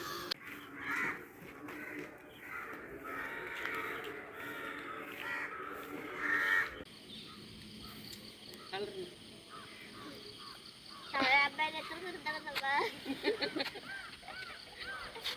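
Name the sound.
crow cawing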